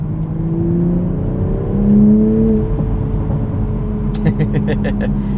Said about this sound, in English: You also seem to get some more unique turbo noises and blow-off sounds with this manual car